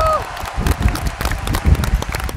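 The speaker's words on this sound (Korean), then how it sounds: "박수." Audience applause with cheering at a beach wrestling team match, continuous dense clapping from a crowd, moderately loud throughout with no clear pauses.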